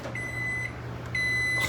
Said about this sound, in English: You just throw it in the microwave.